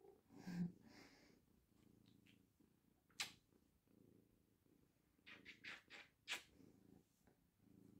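A pet cat purrs softly and steadily close by, a faint low rumble broken by a few short sharp rustles or snorts, with no talk over it.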